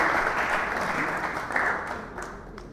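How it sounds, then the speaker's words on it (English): An audience at a campus entrepreneurship talk in Ghana applauding, a dense wash of clapping that holds steady, then slowly thins and fades over a few seconds. "Won't you clap for me?"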